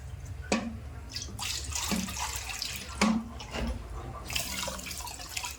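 Water splashes into a large cooking pot for sambar in a few short pours with gaps between them, close and moderately loud, with no talking.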